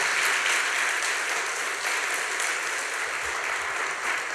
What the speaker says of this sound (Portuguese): Por isso eu quero pedir aplausos para vocês.